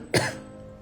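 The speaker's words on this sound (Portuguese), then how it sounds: "Perdoa pela tosse, mas nós vamos seguir assim mesmo." A single short cough from a woman during a live talk, one quick sharp burst followed by quiet room tone.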